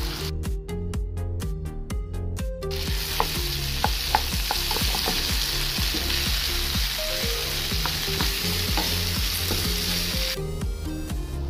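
Pumpkin pieces with garlic and thyme are stirred while frying in a pan, a loud, close, continuous sizzle with scraping strokes from the utensil, after a short stretch of rhythmic tapping at the start.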